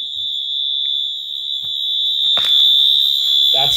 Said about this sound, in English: got this Cintas AED thing hanging on the wall here at work, and it's been beeping for the last 2 days